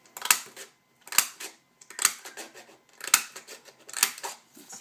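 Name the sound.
paper punch punching hearts out of purple glitter paper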